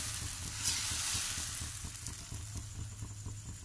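Gulgule batter fries in a pan with a steady, hissing sizzle, close and even throughout, with no talking.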